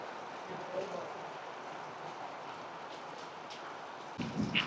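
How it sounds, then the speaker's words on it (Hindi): Steady outdoor rain falling in the mountains while a rice pilaf is being cooked, a continuous even hiss with a brief louder rustle near the end. "ये जी इस टाइम बारिश स्टार्ट हो चुकी हुई है"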